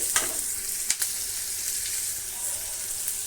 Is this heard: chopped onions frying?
yes